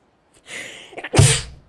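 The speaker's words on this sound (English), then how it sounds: "I'm gonna sneeze." A single loud sneeze, preceded by a couple of quick breathy inhales, close to the listener.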